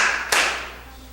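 A brief burst of audience clapping for a school vice principal at a quiz competition, with a sharp clap near the start before the applause quickly fades away.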